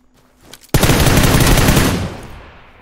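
Automatic gunfire in the video game PUBG PC Lite: after a quiet start, a sudden loud, rapid burst of shots runs for over a second before its echo tails away.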